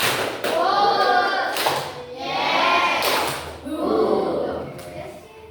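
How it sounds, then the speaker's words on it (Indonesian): Students clap their hands in a counted pattern during a lesson, with short groups of sharp claps between stretches of a teacher's voice giving the count. "Lagi, tepuk 3, 2, 1."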